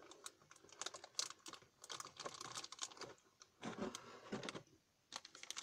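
Small plastic blister packaging for a Nendoroid figure is opened close up, with a run of quick crinkles, snaps and clicky rustles in irregular bursts and short pauses, no talking.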